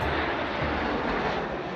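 Engine drone of a 70-year-old aeroplane flying in the Queen's Birthday flypast at Trooping the Colour: a loud, steady, broadband roar that fills the whole moment without a break.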